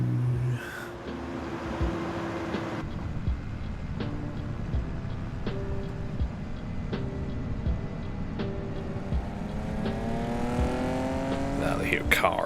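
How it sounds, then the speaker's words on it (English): A Vauxhall Astra estate car fitted with a big bore exhaust drives by, its engine rising and falling with rising harmonics as it accelerates, heard over steady background noise and speech. "Boy racers. Driving their estates. The Vauxhall Astra estate, that one. With a big bore exhaust."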